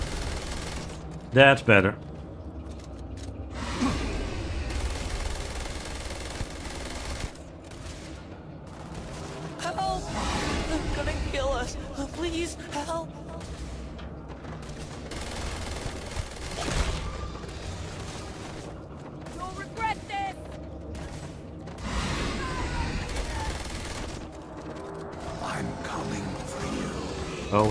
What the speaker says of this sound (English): Open fire! Fire, damn it!